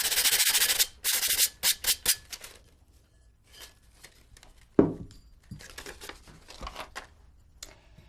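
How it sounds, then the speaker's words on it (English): Sanding rough spots on an upside-down pot and saucer, with brisk rhythmic rubbing strokes at first, then quieter scraping and scratching with a sharp knock midway, close and alone. "sand it off."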